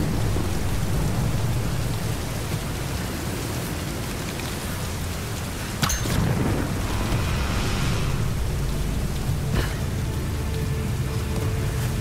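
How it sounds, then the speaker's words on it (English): Steady heavy rain with rumbling thunder in the Tomb Raider video game, a continuous broadband downpour with a sharp thunder crack near the middle and another fainter burst later, no voices. "let's wait out the storm"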